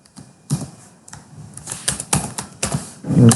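Keys clack on a computer keyboard while C code is being typed, sounding as irregular close taps in short bursts with brief pauses between them.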